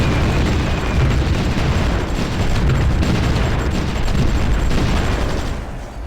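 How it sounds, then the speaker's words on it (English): Artillery barrages in the strategy game Supreme Ruler Ultimate rumble as a steady, loud wall of overlapping booms and blasts that fades slightly at the very end. "Booms are our artillery."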